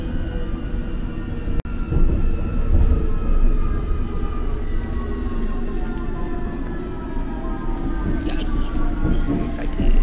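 A London Underground train rides toward Kew Gardens station with a loud, steady rumble and rattle of wheels and carriage, plus one sharp click partway through.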